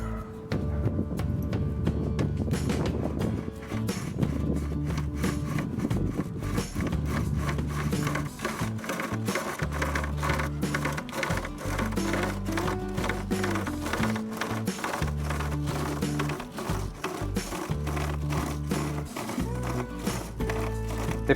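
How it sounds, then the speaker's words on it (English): A $29.99 rope pocket chainsaw with blades on both sides is pulled back and forth through a thick tree branch, giving a close, rhythmic rasping and scraping with steady repeated strokes and short pauses. "let's cut a bit thicker tree branch"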